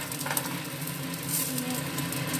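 Whole spices and garlic fry in a tablespoon of oil in a kadai for paneer butter masala, giving a steady close sizzle with faint stirring scrapes and no voices.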